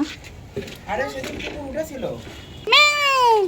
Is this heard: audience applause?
no